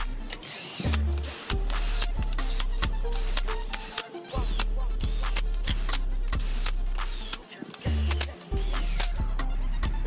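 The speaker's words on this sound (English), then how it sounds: "I'm just gonna run these in by the gun on the low setting" An impact gun on a low setting runs ARP head stud nuts down on an N54 closed-deck engine, giving close, repeated bursts of rapid mechanical hammering separated by short pauses.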